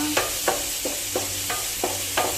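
Chicken gizzards and hearts sauté in a pan for adobo, a soft sizzle under six evenly spaced scraping strokes of a spoon stirring and mixing.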